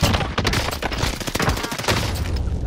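Gunfire in a first-person shooter video game: a dense, loud barrage of rapid shots and cracks filling the whole moment, with no talk over it.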